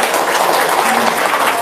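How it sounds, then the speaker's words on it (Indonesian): An indoor audience at a testimonial gathering claps loudly and continuously, a dense stretch of applause from start to finish. "Tepuk tangan dulu dong biar semangat."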